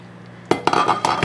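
A spoon stirring a pot of slow-cooked chili, with a few distinct metallic clinks and scrapes against the pot at close range after a brief quiet start.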